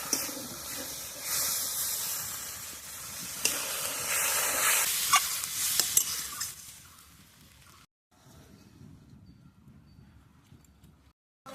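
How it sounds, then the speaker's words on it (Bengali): Duck egg masala sizzles and hisses loudly in the pan as water is poured in, the steamy burst gradually settling, then the sound drops to a quiet low simmer. "মশলা থেকে ডিমটা ভালোভাবে কষানো হয়ে গেছে, এবার দিয়ে দেবো জল।"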